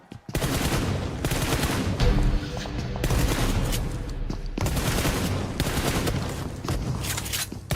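Shotgun fire in a video game, heard as loud, dense volleys of gunshots that run almost without a break and pause briefly only a couple of times.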